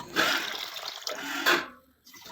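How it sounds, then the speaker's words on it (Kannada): Rice and lentils being washed in water, with sloshing and splashing in bursts followed by a brief pause and a fresh swish, close and fairly loud, with no talk. "ಇದನ್ನು ಕ್ಲೀನಾಗಿ ವಾಶ್ ಮಾಡಿ 8 ಗಂಟೆಗಳ ಕಾಲ ನೀರಲ್ಲಿ ನೆನೆಸ್ತಾ ಇದ್ದೀನಿ"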